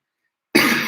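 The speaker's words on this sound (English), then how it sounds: "My throat dry, feeling warm, and I know that cough gonna come back on just now." A person with a dry throat gives a single sudden cough after a moment of silence, loud and close.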